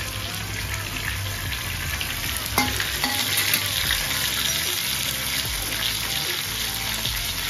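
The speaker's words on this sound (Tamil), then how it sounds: "இதோட பூண்டையும் வரமிளகாயும் போட்டுக்கலாம்." Garlic and dried red chillies fry in a pan for mango chutney, giving a loud, dense, continuous sizzle close up with faint stirring.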